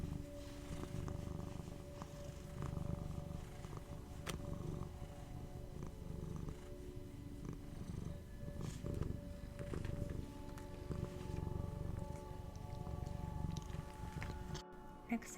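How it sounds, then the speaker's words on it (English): Two cats purring steadily while being scratched, a soft continuous rumbling purr that pulses with each breath, close and intimate with faint background hum. "a cat's purr is one of the best things in this world"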